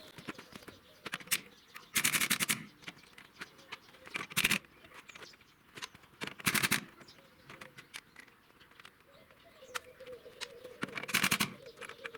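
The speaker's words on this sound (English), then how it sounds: "We use air gun for that, just to speed things along a little bit." A pneumatic air gun zipping tractor wheel nuts off a vintage Ferguson tractor: four short, loud rattling bursts spaced a couple of seconds apart, with quieter clanks and outdoor ambience between them.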